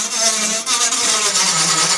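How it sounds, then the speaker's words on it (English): A Dremel rotary tool deburrs and smooths a cut slot in a part for a model steam engine tender, a loud, steady, high whirring grind that runs continuously. "I'm just going to take a Dremel and kind of deburr all this and just smooth out this slot just a hair."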